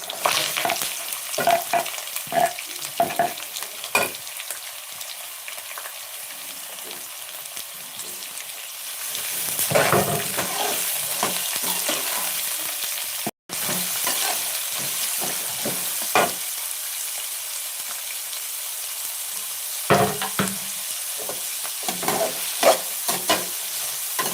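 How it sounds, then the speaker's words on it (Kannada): Onion, curry leaves and green chillies fry and sizzle in a pan for an avalakki upittu breakfast, a steady crackle with repeated scraping stirs throughout, one brief dropout midway, and no voices. "ಈಗ ನೋಡಿ ಈರುಳ್ಳಿ ಮತ್ತು ಹಸಿ ಕರ್ಬೇವಿನ ಸೊಪ್ಪು ಹಸಿಮೆಣ್ಸಿಕಾಯಿನ ಹೆಚ್ಚಿಟ್ಕೊಂಡಿದ್ದೀನಿ ಇದನ್ನು ಹಾಕೋತೀನಿ"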